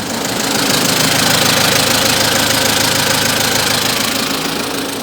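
A small homemade generator engine runs steadily near idle, loud and close, with a rough knocking chug and broadband mechanical rattle throughout.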